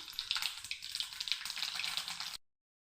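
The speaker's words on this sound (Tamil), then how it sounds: "எண்ணெய் நல்லா காஞ்சதுக்கப்புறம் கடுகு உளுந்து சேர்த்துக்குங்க." Mustard seeds and urad dal sputter and crackle in hot oil in a kadai, a quick run of fine popping and sizzling heard close up for about two seconds before it cuts off.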